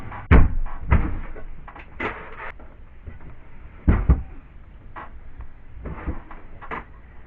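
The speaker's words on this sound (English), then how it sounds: "I'm going to put these in the bottom drawer." Wooden bottom drawer of a bedroom closet knocking and thudding shut several times as clothes are put away, loud and close, with softer rustles and bumps in between.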